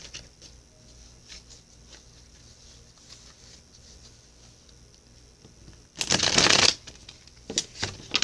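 Tarot cards are riffled in a quick, loud shuffle up close, followed by a couple of shorter flicks of the deck after a quiet stretch.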